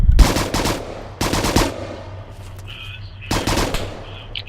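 Bursts of automatic gunfire ring out during a platoon live-fire training exercise, three loud clustered volleys separated by short pauses, with faint birdsong and quiet background between them.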